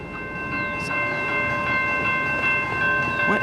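A BNSF freight train loaded with steel coils rolls past close by, a steady rumble and rail noise with faint squeals and clicks running through the whole stretch.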